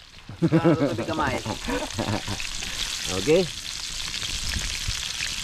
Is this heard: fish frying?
yes